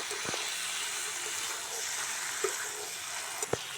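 Raw jackfruit and boiled potato fry in a pan for a prawn curry with a soft, even hiss, broken by a few sharp clicks of a utensil against the pan.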